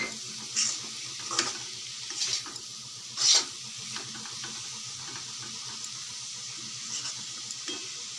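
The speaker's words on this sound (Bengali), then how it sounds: "আলু ভাজা প্রায় তৈরি হয়ে গেছে" Potatoes frying in a pan in a home kitchen, a soft continuous sizzle with occasional louder crackles and stirring scrapes, fairly close and with no talking.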